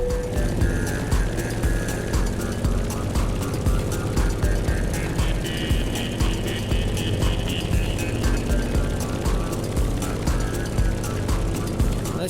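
Airplane buffeted by turbulence in The Crew Motorfest racing game, a steady loud engine drone with dense rumbling and rattling running continuously throughout, no voices over it.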